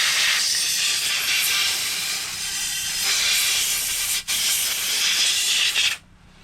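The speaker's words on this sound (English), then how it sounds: "If you guys don't have an air compressor, you should get one. Makes cleaning guns a lot easier." A compressed-air nozzle blasts a loud, continuous hiss through an AR-15 9mm rifle during cleaning, with one brief cut midway before the stream stops abruptly near the end.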